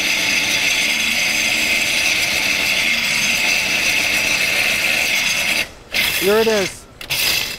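A SpeedCut drain cable cutter grinds into wood with a continuous harsh rasping, mechanical whir, then a brief pause and a short burst of cutting, with a short spoken remark.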